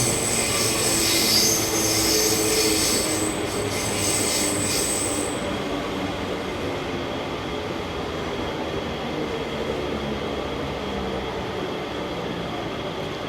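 A train pulling into Nemom station on the Thiruvananthapuram line gives a loud, continuous run of rail noise, with high wheel squeal sustained for the first few seconds and then fading into a steady rumble.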